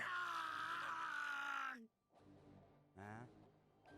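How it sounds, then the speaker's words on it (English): A long, loud, anguished scream from the video game Dies irae, followed by a brief silence and then a shorter pained cry. "What was that scream?"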